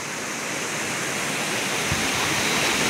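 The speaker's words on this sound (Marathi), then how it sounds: "हा जो झुर आहे ना तो सरळ तिकडं ओढ्याला मिळतोय जाऊन" Rushing water flows continuously, a dense, steady broadband roar like a fast stream or small cascade, loud and close, with no voices.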